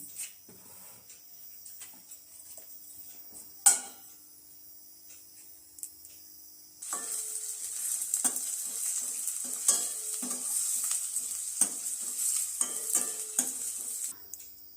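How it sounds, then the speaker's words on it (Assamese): Onion, garlic and ginger go into hot oil in a pan: after a quiet stretch marked by one sharp metallic clink, a bright, steady sizzle bursts in and continues with scattered pan and utensil taps. "এতিয়া আমি পিঁয়াজ নহৰুখিনি ইয়াতে ভাজি ল'ম"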